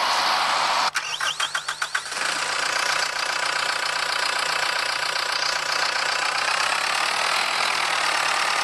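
A small 98 tractor engine strains under load against a 24-ton trailer, a steady mid-pitched drone with a burst of rapid knocking and clatter early on, then a continuous grinding hum.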